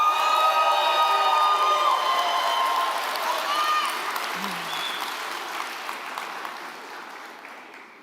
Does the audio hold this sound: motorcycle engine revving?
no